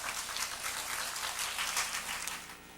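A church congregation at a mothers' prayer meeting claps to welcome the pastor, a soft, dense patter of applause heard from a distance and sustained evenly throughout.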